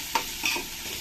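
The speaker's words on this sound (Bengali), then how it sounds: "দেখো, পেঁয়াজটা আমার প্রায় ভাজা হয়ে গেছে" Onions frying in a pan while being stirred, a steady soft sizzle with a couple of brief scraping stirs near the start, heard alone.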